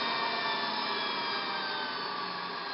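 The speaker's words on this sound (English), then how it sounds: "And there it's spinning down from its top RPM." A Hanil Smart 15 microcentrifuge rotor winds down from top speed, a steady, fairly quiet whirring hiss that holds evenly and fades only slightly, heard up close with no voices.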